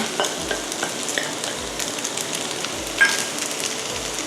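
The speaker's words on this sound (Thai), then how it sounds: "ตอนนี้ก็แค่ผัดให้เข้ากันนะคะ" Fried rice with salted fish stir-fried in a pan, a steady sizzle under repeated scraping strokes of the spatula, close and moderately loud, with no talk.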